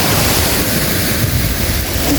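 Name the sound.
sea waves on the Greek coast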